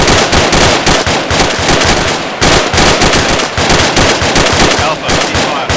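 Team shooting exercise outdoors with dense, loud, continuous gunfire from several rifles, rapid overlapping cracks and bursts with almost no gaps.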